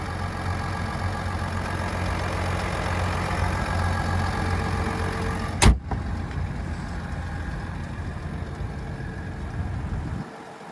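A 3-liter Duramax diesel in a 2022 GMC Sierra 1500 Limited SLT idles with a steady low rumble, with one brief sharp click partway through before the engine cuts off near the end.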